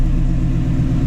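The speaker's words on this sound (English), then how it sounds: "I'm gonna go ahead and pull the car out the garage" A Shelby GT350 engine rumbles loud and close as the car pulls out of a garage, a deep, steady low-pitched drone over the brief moment.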